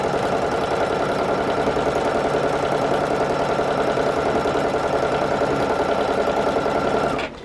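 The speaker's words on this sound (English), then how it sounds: "I'm chain piecing, so in reality, I've made 2 blocks on the go at the same time" A sewing machine chain-pieces log cabin quilt blocks, running in a fast, even mechanical whir that holds steady for several seconds at close range before stopping abruptly.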